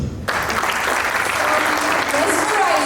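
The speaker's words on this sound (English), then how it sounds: "Please give a big round of applause for sir." At an entrepreneurship business conclave, an audience breaks into applause right after a short pause, dense steady clapping filling the room at close range until the end.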